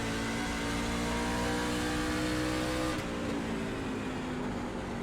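A race car engine in a NASCAR racing video game holds a loud, sustained high-rev drone under throttle, its pitch dipping slightly near the end, with no talk.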